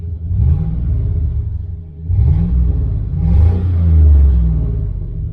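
A 2001 Chevrolet Silverado LS truck engine idles and revs up close, a deep rumbling growl rising in three pulses with throttle blips, loud and low.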